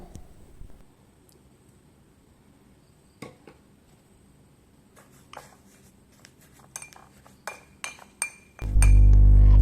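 A spoon mixes a sugar and oil scalp scrub in a bowl, making sparse, faint clinks that grow more frequent before a sudden loud burst of noise at the end.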